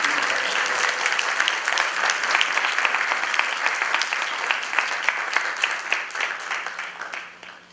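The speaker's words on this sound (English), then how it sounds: "I ask for a round of applause for our" A seminar audience applauds at the close of a cybersecurity event, dense sustained clapping from many hands that carries steadily for several seconds and then tapers off near the end.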